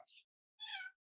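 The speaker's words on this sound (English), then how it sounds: "you can hear him meowing. He wants to be pet." A cat meows twice indoors, a short quiet call followed after a pause by a longer, louder meow, close by with no other sound.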